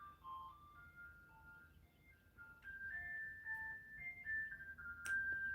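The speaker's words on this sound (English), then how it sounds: "Can y'all hear the ice cream truck?" An ice cream truck's jingle plays faintly in the distance, a thin looping melody of bright notes drifting over quiet surroundings with no talking.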